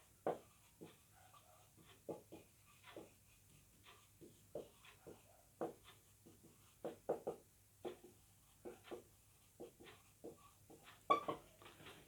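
Chalk or marker writing on a board during a physics lesson on distance and displacement gives faint, scattered taps and short scratchy strokes in irregular bursts, with no talk over them.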